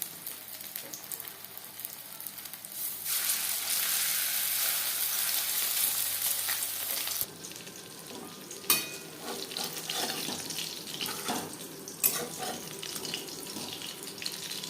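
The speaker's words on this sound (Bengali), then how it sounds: "ভাজবো মিডিয়াম ফ্লেমে আমি শ্যালো ফ্রাই করছি" Spiced fish shallow frying in hot oil on a medium flame, a steady close sizzle that swells loud, then drops to a lighter crackle broken by a few sharp spits and pops.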